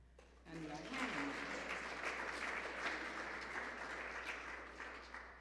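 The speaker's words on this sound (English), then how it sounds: "give yourselves a clap and a hand" A church congregation gathered for a Sunday service applauds together, a steady wash of clapping that swells after a brief spoken opening and holds at moderate loudness for several seconds, with a few voices murmuring beneath it.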